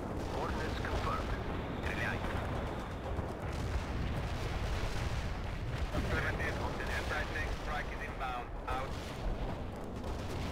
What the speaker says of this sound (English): We can deploy and lead up a heavy barrage.